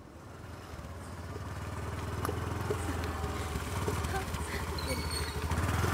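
A motorcycle engine idles and runs steadily at close range, its low throbbing hum building slightly over several seconds while people talk nearby.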